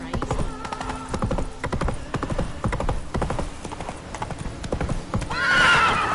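Roach, a horse in The Witcher 3 video game, gallops with rapid, rhythmic hoofbeats over a constant game ambience and ends in a loud whinny; there is no speech.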